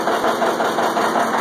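A John Deere-style 720 diesel tractor with a pony starting motor runs steadily at close range, a continuous even engine drone with a faint mechanical knock and no voices.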